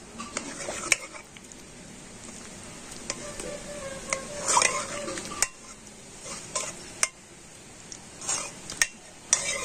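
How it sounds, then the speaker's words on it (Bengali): A metal ladle scrapes and stirs boiled raw mango in a pot, giving scattered knocks and clinks over a steady soft background hiss, close up with no talking. "আর এবারে আমি একটা হাতা দিয়ে আমগুলোকে একটু এইভাবে ঘেঁটে দেব।"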